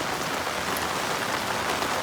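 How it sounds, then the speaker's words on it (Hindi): Heavy rain pours steadily onto surfaces outside, a dense continuous hiss of drops with no pauses and no voices. "इतनी भयंकर बारिश अभी तो कम होगी थोड़ा"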